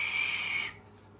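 A person gives one loud, steady, high whistle to imitate a modem tone for a 1984 Convergent Technologies Workslate WK-100, holding it for under a second before it stops abruptly into quiet.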